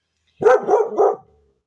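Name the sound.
dogs barking at passersby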